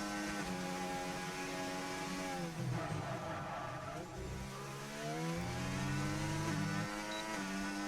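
F1 race cars in a video game circling the reversed Austrian Grand Prix circuit, engines whining steadily and rising and falling in pitch through gear changes, loud and continuous with several cars layered together.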